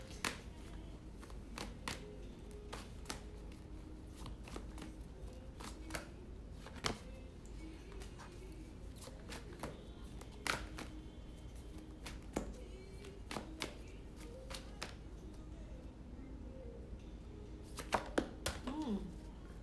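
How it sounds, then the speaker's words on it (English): Cards being shuffled at a table, with repeated sharp riffling taps and clicks scattered over roughly twenty seconds, fairly quiet against a low steady background. "So, we're going to be shuffling."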